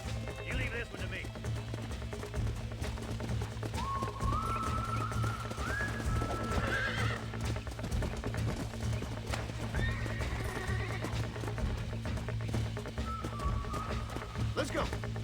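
Horses in the video game Red Dead Redemption, with steady clip-clopping hooves and repeated neighs and whinnies over a constant low rumble, while voices speak intermittently.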